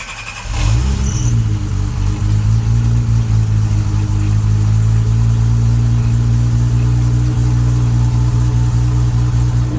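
Toyota 2JZ engine running on a dynamometer during break-in on ethanol fuel: it fires up and settles into a loud, steady, rumbling idle that holds evenly throughout, close and alone.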